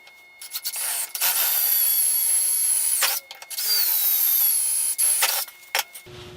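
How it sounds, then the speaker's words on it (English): A power drill whines loudly in two long, steady runs, drilling two holes through metal plates with a high-pitched screech, separated by brief pauses. "Now I can go ahead and drill the 2 holes."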